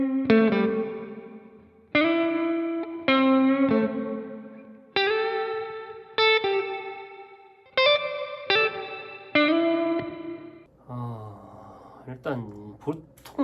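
Guitar played through the room reverb setting of an M-VAVE MK300 multi-effects pedal in stereo: a sequence of strummed chords, each ringing out with a smeared reverb tail, ending in a few softer muted notes.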